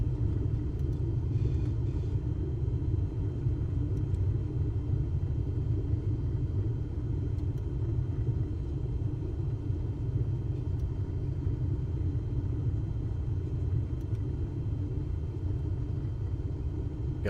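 Steady low rumble of an aircraft rolling and braking on the ground in Microsoft Flight Simulator 2024, a continuous engine-and-wheel drone at constant loudness with no talk.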